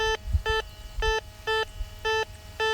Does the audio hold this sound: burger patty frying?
no